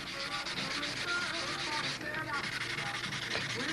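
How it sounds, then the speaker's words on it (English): Primed wooden mold being wet-sanded with Windex, steady rhythmic rubbing strokes close by, moderately loud and continuous. "What I'm doing now is I'm sanding this with Windex"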